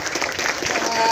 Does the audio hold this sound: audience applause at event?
yes